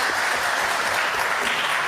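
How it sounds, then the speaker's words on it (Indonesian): An audience at a Commission III parliamentary hearing breaks into dense, sustained applause, loud and even throughout with no gaps. "Kita kasih tepuk tangan dan semangat untuk Pak Dirkrimsus."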